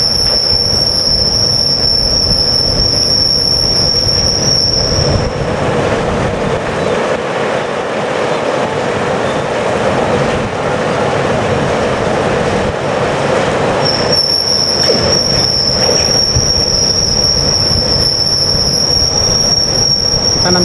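A rail-laying train moves slowly along a high-speed rail slab track, wheels grinding and rumbling with loud, sustained high-pitched squeals at the start and again near the end.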